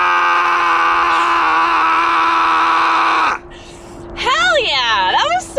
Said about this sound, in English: I'm ready for my primal scream.